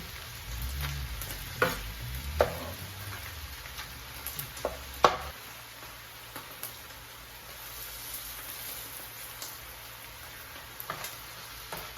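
Tomatoes going into a pan of beef ragu, setting off a soft, steady sizzle and crackle with a few sharp pops and clinks near the start, then settling to a faint, even frying hiss.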